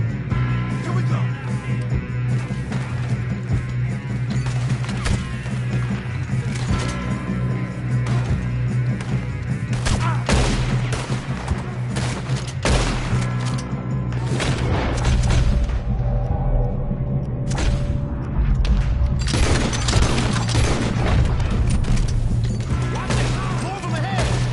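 Gunfire in Red Dead Redemption 2 during a shootout: repeated heavy booming shots and crashes scattered through a loud, busy scene, with people shouting and talking throughout.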